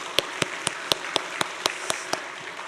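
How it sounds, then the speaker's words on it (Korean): A church congregation claps at a Wednesday worship service, about ten sharp, evenly spaced claps in steady unison rhythm, moderately loud against a quiet room with no talking. "박수 한번 해줄게요."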